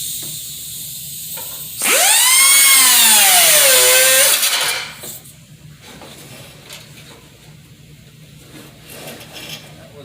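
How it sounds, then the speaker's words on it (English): A power tool fitted with a cut-off wheel, used for precision cuts, screams loudly through a cut for about two and a half seconds, its whine dipping and rising under load before winding down to quieter background noise. "this is like a cut-off wheel. You use it for more precision cuts."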